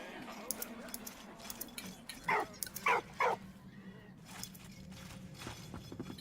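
A dog in the Valiant Hearts video game gives a few short, whimpering barks in a row midway through, set against quiet ambient game sound and faint rustling.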